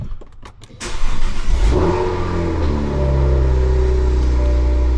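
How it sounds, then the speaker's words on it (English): A Cadillac CT4-V Blackwing cold starts with a sharp crank and a loud flare of revs, then settles into a deep, steady, rumbling high idle. The sound is close and inside the car with the door open. "Leave the door open so you can hear that sweet cold start."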